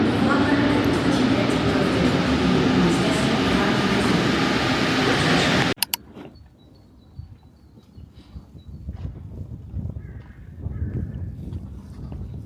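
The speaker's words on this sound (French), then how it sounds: "Je vais y aller en métro je pense." Lyon metro train riding, a loud steady rumble and roar filling the first half, then cutting off abruptly to a quieter, uneven background with faint tones and shuffling.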